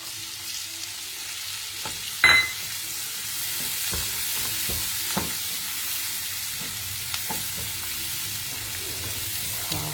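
Onions fry in butter with garlic in a pan, giving a steady bright sizzle with soft stirring scrapes and one sharp clatter early on.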